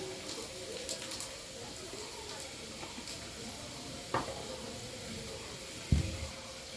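Chopped onions with oil sizzle softly in a pan while a Bengali chicken curry is cooked, with a steady low hiss and a couple of sharp clinks of a utensil against the pan.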